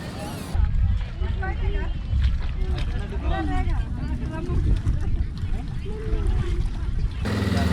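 A boat ride on the Poovar backwaters in Kerala carries a continuous low rumble and wind buffeting across the whole stretch, with people talking over the engine and water noise.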